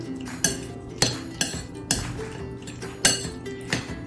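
Spoon or utensil working food with lemon in a bowl, giving a steady run of close clinks and scrapes against the dish roughly every half second, heard alone with no talking.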